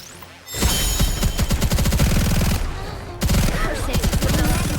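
Machine guns fire in the video game Last Kingdom, loud rapid bursts of automatic fire in two long volleys separated by a brief lull, close and dense.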